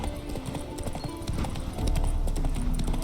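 Hooves of a horse in The Witcher 3 clip-clop in a steady walking rhythm, close and clear, with faint background sound and a trace of voice.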